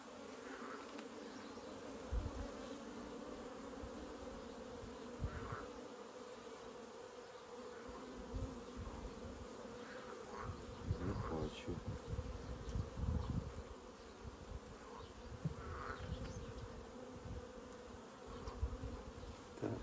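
A steady, low buzzing of many honeybees in a weak hive, continuous and close, with occasional louder swells as bees move nearby.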